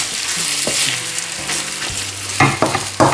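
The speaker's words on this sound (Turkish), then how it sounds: "Şunları da şöyle bir karıştıralım. Sıvı yağ ile zeytinyağını da karışık." A stuffed-köfte filling with vegetable and olive oil is stirred in a pan, a loud close sizzle with rhythmic scraping strokes of the utensil and no talk.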